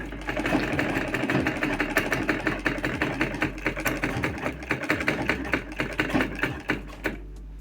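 A sewing machine with loose upper stitches runs close and loud in a fast, even mechanical chatter of needle strokes for several seconds, then slows and stops near the end.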